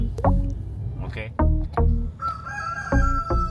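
A hybrid rooster in a Lusaka compound crows repeatedly, loud and close, among clucking hens, with a voice and faint background noise mixed in.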